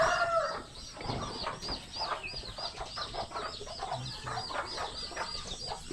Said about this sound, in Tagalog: Baka may pumasok na ibang manok na.